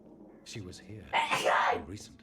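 A single close sneeze bursts out, loud and breathy, between stretches of speech from a person nearby.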